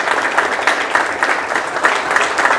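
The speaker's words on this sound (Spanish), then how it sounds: "Un fuerte aplauso para todos ellos." Audience applauding students at a school ceremony held by a union: steady, dense clapping from a sizeable crowd, fairly loud and even, with no break and no talk over it.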